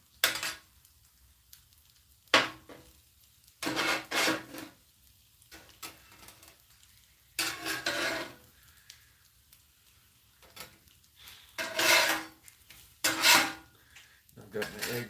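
Kitchen knife cutting breakfast food into pieces on a board, a few separate bursts of chopping and clatter amid pan and utensil sounds, close and moderately loud, with sizzling in the background.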